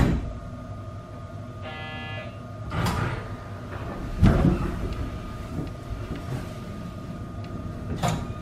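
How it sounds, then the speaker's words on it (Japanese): A JR Hakubi Line train between Okayama and Niimi closing its doors, a short electronic buzzer tone followed by the heavy thud and slide of doors shutting, with rumbling cab noise around it. "ドアが閉まります。 ご注意ください。"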